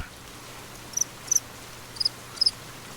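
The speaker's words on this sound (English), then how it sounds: "Cricket sounds." Crickets chirp in a video game, The Cardinal Park Case: four short, high, paired chirp bursts spaced about half a second apart over a faint low hum, with no talking.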